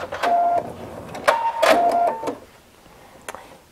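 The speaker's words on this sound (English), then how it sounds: "stitch back up towards the top, and then stitch back across one more time, back stitch" A sewing machine back-stitches a fabric Easter egg pot holder, its motor whirring in several short bursts with brief pauses, then quiet clicks near the end.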